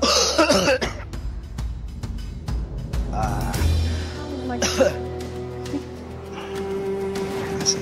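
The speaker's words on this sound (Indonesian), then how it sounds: "Kok batuknya kayak gitu sih, serem banget" Several harsh coughs come close together near the start, followed by more scattered coughing and throat sounds with some talk mixed in.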